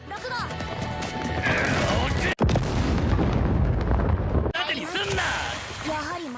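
A bomb explodes and destroys a golem monster in an anime battle, loud crashing blasts filling the whole stretch with a sharp break partway, while voices speak over the din.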